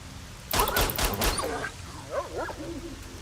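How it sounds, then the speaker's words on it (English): Video game dogs growling and barking, a burst of several sharp close barks followed by softer yelps and whimpering whines trailing off, over a low background hum. "God, I hate these dogs."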